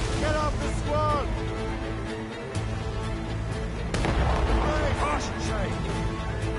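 Ship cannons fire repeatedly in a naval battle in Assassin's Creed Rogue, heavy booms and bursts mixed with shouted crew orders over a constant loud roar of battle and sea.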